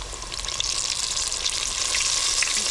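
Flour-coated chicken fries steadily in a pan, a dense, continuous sizzle and crackle that stays close and fairly loud throughout, with no voices over it.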